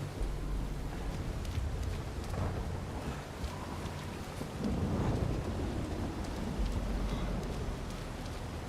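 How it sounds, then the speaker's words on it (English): Steady rain with rolling thunder in Uncharted 4, a dense continuous downpour with low rumbles swelling midway, loud and without speech. "Wow, look at all this rain."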